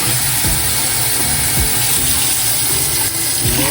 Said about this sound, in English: I measure out 4 cups of water